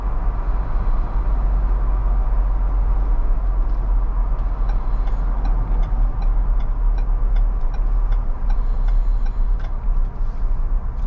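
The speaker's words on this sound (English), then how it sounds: "A little bit of rumble. That's what we'd like to hear." Ford Bronco engine rumbling on a night street drive, a steady low drone with constant road and cabin noise and faint ticking, loud and close from inside.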